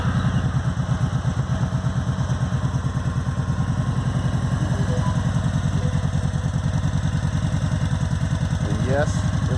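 A liquid-cooled, Harley-style cruiser motorcycle with six speeds idles in neutral, its engine putting out a steady, loud, even low-pitched pulse that carries unchanged from start to finish.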